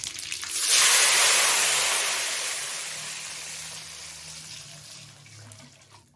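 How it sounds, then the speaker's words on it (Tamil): Tamarind water poured into a hot pan of tempered oil for tamarind rice, a sudden loud gushing hiss that peaks quickly and then slowly fades to a gentle simmer. "புளி தண்ணி ஊற்றிக்கணும்."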